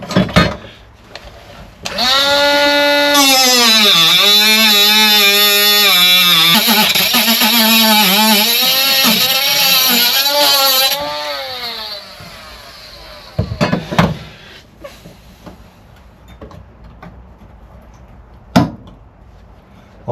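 A power tool cuts out damaged floor metal on a Mk2 Ford Fiesta, a loud whining cut of about nine seconds with shifting pitch as it bites, then scattered clanks and knocks of the metal nearby.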